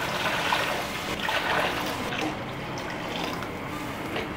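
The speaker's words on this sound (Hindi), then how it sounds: "तो इसी मेजरमेंट से मैं 4 गिलास पानी ऐड करूँगी" Water is poured from a glass into a cooking pot for chana dal pulao, a continuous splashing trickle that fills steadily and softens slightly toward the end, heard alone without talk.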